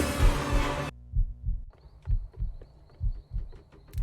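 Thudding heartbeat effect in the Roblox horror game The Watchtower Experience, a steady double-thump pulse repeating about once a second, loud and close, following a burst of louder game noise at the start.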